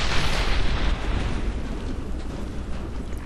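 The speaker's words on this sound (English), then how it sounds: "So just be aware that there's a mortar shooting at you." A mortar shell explodes in Ghost Recon Advanced Warfighter 2, a loud, dense boom with rumbling debris that sustains broadly and slowly fades over a few seconds.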